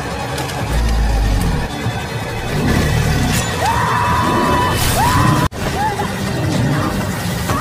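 A single gunshot fired at a man-eating crocodile in a swamp during a film scene, a sudden sharp bang cutting through loud dramatic sound and rising whoops.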